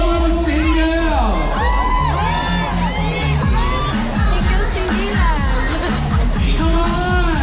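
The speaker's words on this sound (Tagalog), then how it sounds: "Sumigaw ang mga single!" A loud audience at a live show shouts and cheers nonstop, with whoops and children's high voices over a booming music beat.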